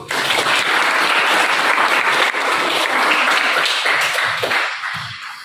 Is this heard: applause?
yes